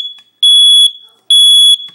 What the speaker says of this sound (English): The alarm will sound within 20 seconds.